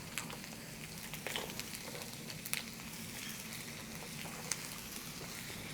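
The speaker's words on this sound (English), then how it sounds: "So I'm just going to toss all of my vegetables in there." Vegetables, including broccoli, stir-fry in sesame oil with a quiet, continuous sizzle and scattered small pops and clicks, faint and fairly distant, with no talking.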